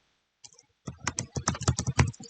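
Quick bursts of typing on a computer keyboard, a few isolated taps followed by a rapid run of clicky keystrokes, close and fairly quiet.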